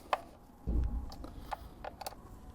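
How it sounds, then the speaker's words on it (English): Faint metallic clicks and a brief ratcheting rattle while two pinch bolts are tightened on the front wheel of a Yamaha MT 125 motorbike, sparse and close in a quiet workshop. "We'll just do those two pinch bolts up."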